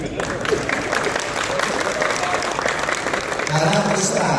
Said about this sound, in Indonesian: Kita berikan tepuk tangan yang luar biasa sekali.